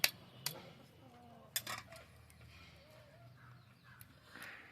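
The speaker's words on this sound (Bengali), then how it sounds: "এবার আমি ডিমটা ফাটিয়ে নেব" A free-range hen's egg with a thick shell is cracked, giving a few faint, sharp taps and clicks spaced out over a quiet kitchen background.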